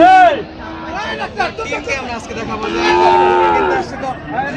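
Cattle moo loudly several times in a row, long drawn-out lows over a busy background of crowd chatter and people talking, at a cattle market in Joypurhat, Bangladesh.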